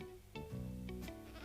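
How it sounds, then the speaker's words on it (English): A goat gives a short, faint, wavering bleat, a single bleat lasting about a second over quiet background. "Useful animals, goats, Jim"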